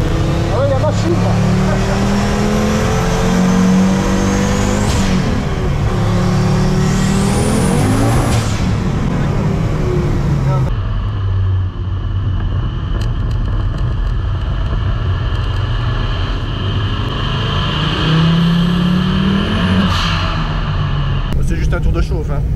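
Ford Focus RS-R race car engine revving loudly and continuously while warming its tyres, with rising and falling pitch sweeps, heard close with people talking over it.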